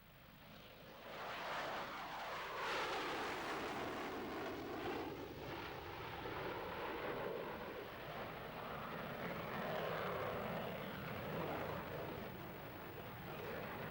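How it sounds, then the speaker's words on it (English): A MiG-29 jet flies past, a steady loud roar that swells and sweeps through a long pass with a shifting whine, lasting the whole stretch with no voices. "the aircraft began its first flight"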